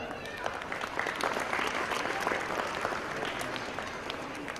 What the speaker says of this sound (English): May we now have another round of a thunderous clap